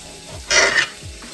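A serrated knife sawing through a tomato, one short rasping stroke of about a third of a second, close and fairly loud against quiet room tone.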